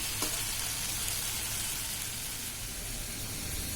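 Ridge gourd fries in a pan as water is poured in, setting off a loud, steady sizzle and hiss that holds evenly throughout.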